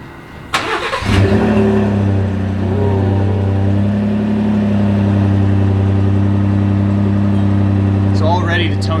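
Ford F150 STX pickup engine fitted with a FactionFab resonator delete, starting up then settling into a loud, steady, deep idle exhaust drone close by.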